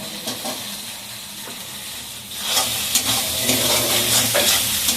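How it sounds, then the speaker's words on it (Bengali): Spice masala is stir-fried in a pan, a close sizzling hiss with scraping stirs, growing louder and busier partway through. "আমি এবার একটু মশলাটাকে ভালো করে কষিয়ে নিই"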